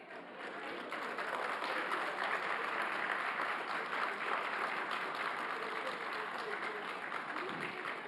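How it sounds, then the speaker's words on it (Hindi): Sustained audience applause fills the room during a podcast recording, dense steady clapping that holds at full strength for the whole stretch with no voices on top. "ताली सहमति में बजा रहे हैं या नहीं"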